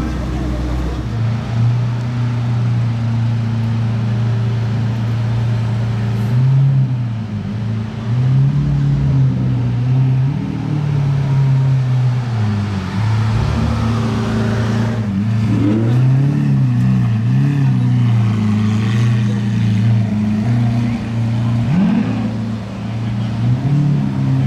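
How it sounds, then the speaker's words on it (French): A convoy of supercars, Ferraris and a Bentley Bentayga, rumbles past in a street during a Modball rally, with engines droning and swelling under continuous traffic noise while people talk nearby. "Petit convoi de Ferrari. Ah, lui en Bentayga."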